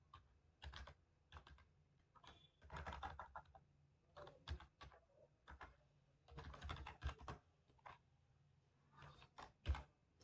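Quiet bursts of typing on a computer keyboard, irregular clusters of key clicks separated by short pauses, close-miked and soft, with no voices.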